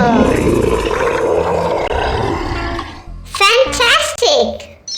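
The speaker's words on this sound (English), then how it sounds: "Dinosaur." Dinosaur roar sound effect, a long, loud, rough growling roar held for several seconds, then a voice chatters over a few shorter bursts.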